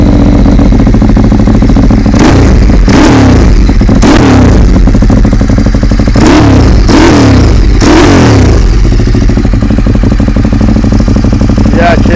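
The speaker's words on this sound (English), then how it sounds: "start that bike." A Ducati 848 Evo Corse sport motorcycle starts and idles loudly up close, its engine blipped through several sharp revs that rise and fall in bursts, with heavy exhaust rumble throughout.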